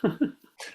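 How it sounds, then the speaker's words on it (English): Two sharp, close coughs in quick succession, followed by a brief breathy exhale. "sorry, excuse me, I'm going to cough"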